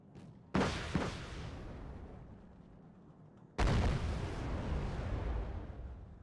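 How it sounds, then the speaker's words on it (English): Two heavy bomb blasts from the Wargame: Red Dragon strategy game, each a sudden loud boom trailing into a long rumbling decay, the second arriving about three seconds after the first. "That bomb should be right on target"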